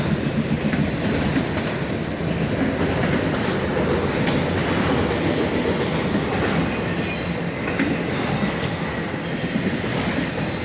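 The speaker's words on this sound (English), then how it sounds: "Oh, whoa, that's the work train." A work train rolls past loudly and continuously, wheels rattling and clacking over the rails with a constant rumbling roar and occasional metallic squeal, in Folkston, Georgia.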